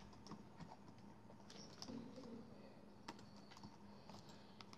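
Typing on a computer keyboard during web design work, soft uneven key clicks in irregular bursts, quiet and close over a faint steady room hum, with no talking.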